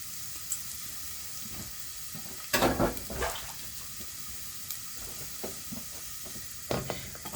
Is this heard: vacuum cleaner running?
no